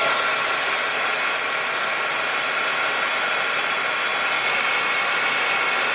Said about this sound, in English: Now I'm going to dry these a little bit with my heat tool